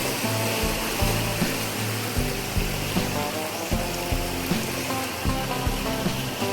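Floodwater flows through rural farm fields as a steady broadband rush, with faint tonal music running underneath.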